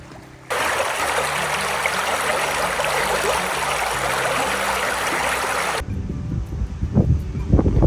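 Bonanza Creek near Dawson in the Yukon flows in a steady, loud, close rush of water for several seconds, then gives way to gusty wind buffeting the microphone with low rumbles.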